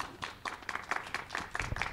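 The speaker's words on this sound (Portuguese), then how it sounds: "uma salva de palmas para o noivo" An audience at a wedding ceremony claps for the groom in a short, moderately distant round of applause with uneven individual claps.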